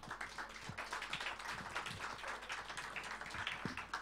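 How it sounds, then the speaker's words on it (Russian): Audience applause at a live jazz concert in a club, a steady wash of many hands clapping at moderate distance, fairly soft and continuous without speech. "аплодисменты"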